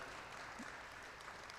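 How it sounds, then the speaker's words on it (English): An audience at an AltaSea Blue Earth Day event applauds the AltaSea team with steady, dense clapping that fills the whole moment at a moderate, slightly distant level. "we want to give them a great big round of applause"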